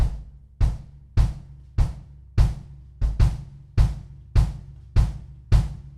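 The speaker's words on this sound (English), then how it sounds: "I'm going to add the bass drum part now." Steady bass drum hits from a half-time shuffle groove on a drum kit, about ten booming strokes in an even swung pattern, close and solo with no talking.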